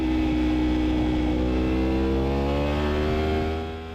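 A Yamaha R1 superbike engine under throttle on the Mugello race track, a loud high-revving wail with its pitch sliding steadily downward as the rider eases off, fading slightly at the end.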